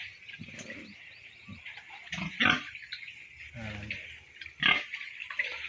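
Sows grunt and snort in short bursts near and far on a pig farm, mixed with squeals and faint bird chirps in the background.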